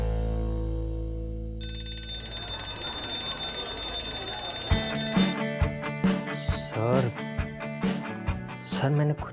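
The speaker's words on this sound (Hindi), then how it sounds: "तुमने सिर्फ मजाक में फायर अलार्म ऑन कर दिया।" A fire alarm rings through a college building, a steady electronic tone joined by repeated pulsing bell-like bursts, with voices talking over it.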